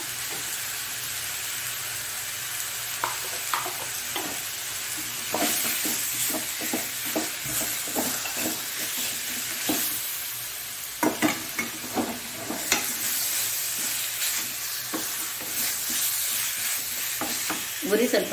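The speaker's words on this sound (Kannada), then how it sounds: "ಚಿಕನ್ ಅನ್ನು ಇದರಲ್ಲಿ ಹಾಕೊಳ್ಳೋಣ. ಒಳ್ಳೆ ಇದನ್ನು ಇದರಲ್ಲಿ ತಿರುಗಿಸಿಕೊಳ್ಬೇಕು." Chicken with turmeric sizzles and fries in a pan for Chicken Karipatta, with a steady hiss and repeated scraping stirs of a spoon throughout.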